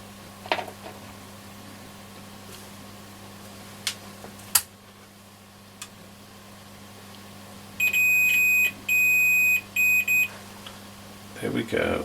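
A multimeter gives continuity beeps while probing a headphone socket on a Roberts R600 radio under repair: a few short steady tones near the end, loud and clear over a quiet hum, with light handling clicks before them.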